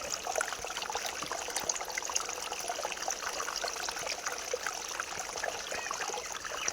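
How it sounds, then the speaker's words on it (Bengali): Water from a submerged motor in an aeroponic growing tank streams and trickles steadily upward to the plant roots, a continuous close splashing flow with no talking. "ট্যাঙ্কের ভিতরে আছে মোটর লাগানো আছে এবং সেই মোটর থেকে জল উপরে উঠে আসছে।"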